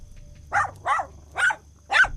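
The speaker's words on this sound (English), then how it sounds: "she just keeps barking and barking" A dog barks at a campsite in a dark forest at night: four sharp, close barks spaced about half a second apart, with quiet between them.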